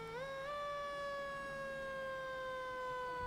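An old fire engine's siren wails during a July 4 Independence Day parade, a loud, sustained tone that rises at the start and then holds a slowly falling pitch throughout.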